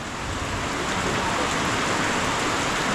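Heavy rain pours steadily in a rural farm setting with bamboo fencing and livestock, a dense, constant hiss of water with no breaks, loud and close throughout.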